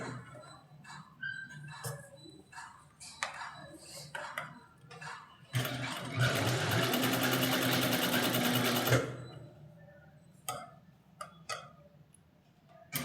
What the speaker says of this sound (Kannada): ಒಳಗಡೆ ಬಟ್ಟೆ ಮೇಲೆ ಎಡ್ಜ್ ಸ್ಟಿಚ್ ಹಾಕಬೇಕು